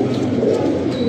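A pigeon coos close up, a low, soft, rolling call held steadily.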